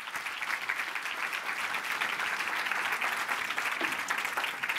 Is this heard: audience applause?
yes